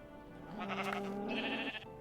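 A sheep in Minecraft gives one drawn-out, wavering bleat of about a second and a half, close and clear, with no one speaking.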